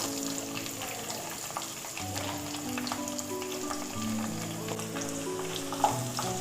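Onion, curry leaves and whole spices such as cloves and cardamom frying in hot oil for a Tamil-style prawn thokku, a steady low sizzle under a faint tonal background, with one brief clatter near the end.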